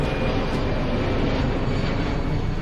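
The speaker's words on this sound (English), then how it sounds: "Got to hear the sound of airplane after a long time." An airplane flies overhead, a steady broadband engine roar that fills the whole clip at moderate loudness with no talking.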